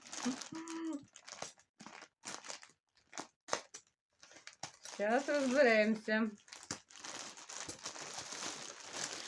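Plastic packaging from yarn purchases crinkles and rustles in bursts close by, while someone speaks briefly over the noise.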